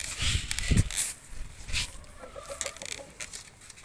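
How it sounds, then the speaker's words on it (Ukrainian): Roosters kept for sale and meat cluck in a farmyard in Lviv Oblast, short scattered clucks and calls at moderate distance over faint outdoor background noise. "Є півні на продажу, на тримання, на м'ясо."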